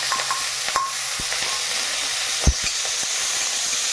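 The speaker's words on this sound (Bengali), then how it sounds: "কড়াইতে তেল দিয়ে দিলাম, এখন তেলের মধ্যে একটু 5 ফোড়ন দেবো আর পেঁয়াজ রসুন কাঁচা লঙ্কা" Five-spice seeds, onion, garlic and green chilli fry in hot oil in a wok, giving a steady low sizzle broken by a few sharp clicks and stirring knocks.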